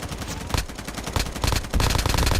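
Rapid automatic gunfire in Call of Duty Mobile battle royale, a loud continuous stream of shots with overlapping bursts that grows denser toward the end, close and dominant with no voice over it.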